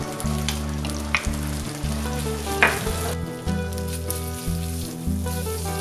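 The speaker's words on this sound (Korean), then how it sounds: "약한 불에서 같이 살살 볶아주면 되는데 너무 불 세게 하면 탈 수 있으니까 조절 잘 하셔야 돼요" Mentaiko (pollock roe) stir-fries in a pan for cream pasta, a continuous close sizzle broken by occasional spatula scrapes and clatters over a low steady hum.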